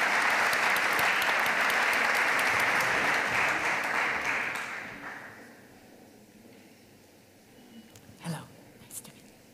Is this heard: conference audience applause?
yes